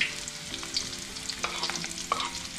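Onions and garlic sizzle steadily in a hot pan while being stirred, with scraping and light clinks of a utensil over the constant frying hiss, close by and alone.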